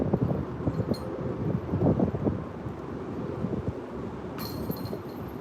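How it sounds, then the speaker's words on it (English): Strong gusty wind of about 25 mph buffets the microphone on a disc golf course, a loud, rumbling roar throughout, with a faint metallic clink near the end and no talking. "Actually, it's windy."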